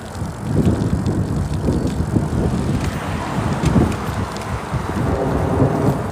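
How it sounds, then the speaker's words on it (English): Thunder rumbles low and continuous during a severe thunderstorm in northern Nevada, heard outdoors from a moving bicycle with steady wind and road noise. "Big time lightning and thunder."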